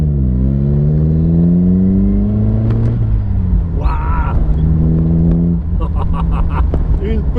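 Exhaust of a 2017 Morgan Plus 4 revving, a loud close engine note that climbs and falls in pitch across several blips, with brief whirring sounds between them.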